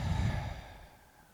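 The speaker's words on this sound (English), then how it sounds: "Lengthen the exhale." A single long, slow exhale, breathy and soft, loudest at the start and tapering gradually into quiet.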